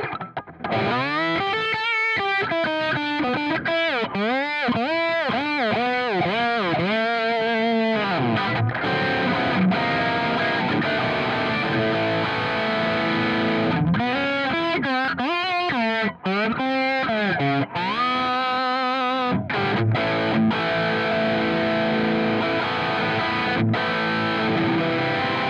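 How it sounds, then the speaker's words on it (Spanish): An electric guitar is played through a whammy pedal on a GH Systems pedalboard with distortion. Notes repeatedly bend and swoop up and down in pitch in rapid, wavering sweeps, interspersed with held distorted chords, loud and continuous. "Y escuchá como el whammy ya tengo un sonido diferente."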